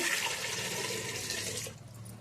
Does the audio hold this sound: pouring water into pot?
yes